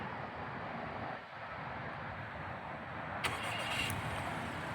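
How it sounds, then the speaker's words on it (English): A 2025 Acura RDX Advance is started by remote start: a steady engine and road-like rumble runs throughout, with a short dip and then a brighter burst near the end, and no voices. "And the engine will start right up."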